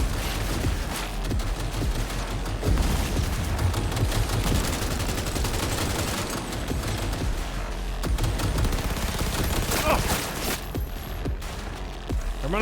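Rifle gunfire from the video game Cyberpunk 2077 rattles in dense, rapid bursts, loud and continuous with sharp individual shots layered over a heavy low rumble, broken by a few brief lulls.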